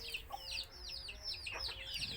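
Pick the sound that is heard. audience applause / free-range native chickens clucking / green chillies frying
free-range native chickens clucking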